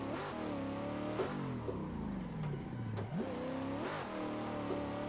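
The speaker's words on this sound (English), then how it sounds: "let's go ahead and give this thing a rip and see if this thing is even a worthy drift car" Engine of a drift car revving hard, rising and falling pitch sweeps as the throttle is blipped and the engine climbs, loud and close with no talk.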